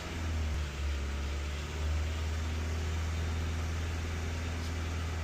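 A 2010 Honda Civic engine, one with a no-crank, no-start fault, is held at about 2,000 RPM, producing a steady, loud, even drone with a slight dip early on and no speech.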